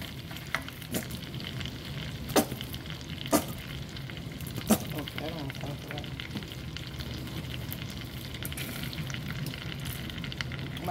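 Butter and minced garlic sizzle steadily in a pan for a barbecue sauce for ribs, a continuous close frying hiss broken by a few sharp utensil clicks and taps.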